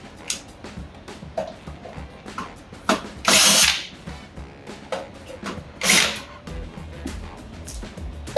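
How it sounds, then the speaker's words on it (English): A power drill backs out screws from the element box on a Seattle Pottery Supply kiln, with two loud whirring bursts standing out among lighter clicks and handling knocks nearby. "We're just going to remove these 4 screws, 2 on this side, 2 on the other"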